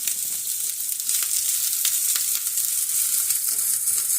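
Mushrooms hitting a hot pan for a curry-powder egg stir-fry, a steady bright sizzle and crackle with occasional sharper pops, close and loud with no talk.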